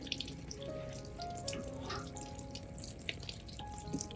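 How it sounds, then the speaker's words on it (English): Running tap water splashes steadily over an orchid plant being rinsed, a continuous close faucet stream with small drips and splashes, no talking. "I'll rinse the entire plant under running water."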